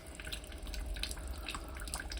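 Water pours and trickles into a garage after a heavy rain storm, a continuous splashing and dripping wash of sound that stays steady throughout with no voices.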